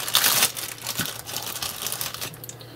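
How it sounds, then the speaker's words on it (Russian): A bubble-wrap bag crinkles while a small parcel is unpacked, with a loud crackling burst at the start followed by softer intermittent rustling. "Так, пакетик с пупырышками."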